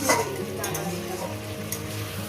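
Rohu fish curry with drumsticks sizzles steadily as it is sautéed in a pan, a constant moderate frying hiss heard beneath a voice talking throughout.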